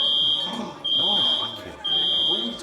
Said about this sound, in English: Suddenly, fire alarms start going off in the office.